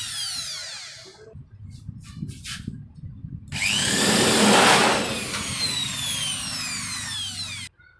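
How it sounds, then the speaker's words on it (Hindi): A handheld electric drill bores a hole through an old air cooler body, with short whirring bursts and then a sustained loud grinding whine as the bit cuts through before stopping. "ड्रिल मशीन से इसमें होल कर लेंगे"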